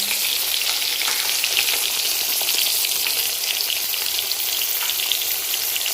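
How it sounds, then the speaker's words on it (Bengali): White eggplant slices frying in a pan, a steady dense sizzle and crackle running continuously and evenly throughout, close up with no voices. "দেখো বন্ধুরা, বেগুনটা আমার ভাজা হয়ে গেছে"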